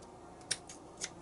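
Two quick, crisp snips of scissors cutting paper for a journal embellishment book, about half a second apart, close and fairly quiet against a faint room background.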